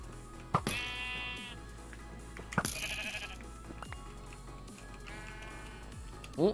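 A few sheep bleats from a Minecraft-style video game, separate short calls at the start, middle and end over quiet game music, with no talking.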